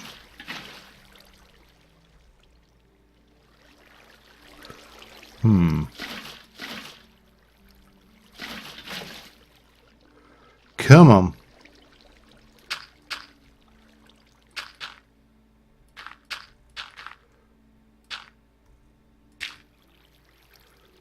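Water flows in Minecraft in short, separate splashy trickle bursts with quiet gaps between them, and someone speaks briefly once.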